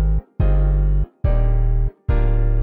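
Pluggnb beat made in FL Studio: sustained piano chords locked to a deep 808 bass pattern, playing in three loud, evenly spaced blocks with short gaps between them and no voices.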